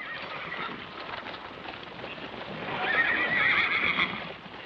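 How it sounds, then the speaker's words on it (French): A horse in a corral whinnies loudly over a steady bed of rustling hooves and movement, the neigh rising near the end and staying close and clear. "choisis-toi une bête dans l'enclos. Il te faut un cheval."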